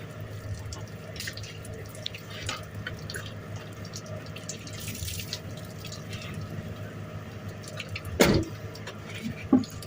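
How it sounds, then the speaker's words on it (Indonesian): Water splashes steadily over a truck tire before soaping, a continuous running wash with a brief louder gush near the end, fairly close with a low engine-like rumble underneath. "Ini biar disiram dulu, baru disabun."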